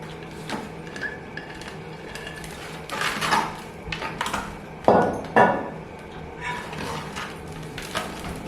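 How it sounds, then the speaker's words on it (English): A bonsai tree being worked out of its ceramic pot, a run of scattered hard knocks, scrapes and clinks of pot and tools, some louder thumps in the middle, close and without talking. "We remove it from the pot."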